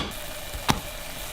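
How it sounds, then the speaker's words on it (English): Soft, steady sizzle of croissant and brioche bread frying in a pan, with one brief sharper crackle partway through. "So that is sizzling away in there."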